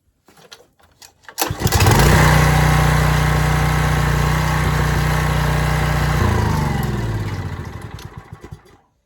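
An old rototiller engine, recently fixed, sputters with a few pull-start tugs, then catches and roars loudly close by, running steadily with a rough clatter before its revs drop and it winds down, sputtering to a stop.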